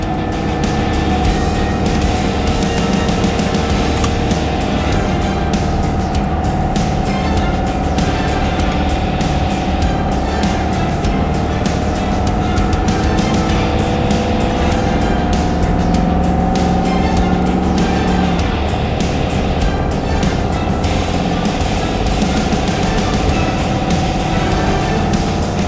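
A pickup truck fitted with a Banks Pedal Monster throttle controller accelerates hard while hauling on a remote Quebec road, its engine droning loud and close with a steady rising growl and no talk.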